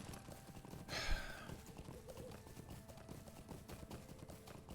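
Hoofbeats of a horse in the online game Lord of the Rings Online clip-clop steadily and quietly at mid distance, with a brief louder burst near the start over a busy background.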